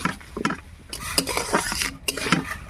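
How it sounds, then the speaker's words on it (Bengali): Spice paste with chili powder and sugar being stirred and fried in a pan, with repeated scraping strokes of a spatula on metal over a soft sizzle, close and fairly loud. "দিয়ে এবার মশলাটা ভালো করে কষে নেব"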